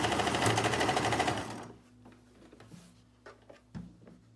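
Domestic sewing machine running a narrow zigzag stitch on a fabric hem, a fast loud mechanical whir for about a second and a half, then stopping, followed by quiet handling clicks and soft knocks.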